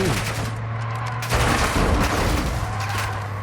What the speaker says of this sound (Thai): เราต้องยิงทุกคนที่ขวางหน้า